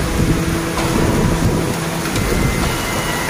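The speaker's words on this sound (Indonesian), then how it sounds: "Budi Asi, hujan es." Hail pours down during a storm in Jakarta, a dense, loud, continuous rattle and roar of ice striking surfaces, with faint tonal noise underneath and no talking.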